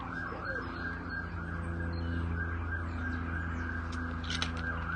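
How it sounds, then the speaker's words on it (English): Emergency sirens wail steadily in the distance over a constant low hum of traffic, with faint bird chirps near the end. "I can't hear anything for the sirens now"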